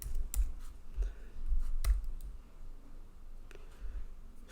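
Code typed on a computer keyboard, scattered close key clicks in an uneven rhythm over a low, steady background rumble.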